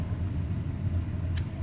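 A motor vehicle passes by as a steady, low road rumble that holds fairly evenly throughout, with no voices over it.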